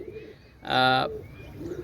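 A Pakistani high-flying pigeon gives a single close, loud coo in the middle, with quieter background sounds before and after.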